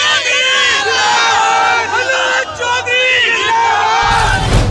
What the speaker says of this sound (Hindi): ये इतना जोश है, ये ऐतिहासिक भीड़ है, भीड़ इकट्ठी हो जाती है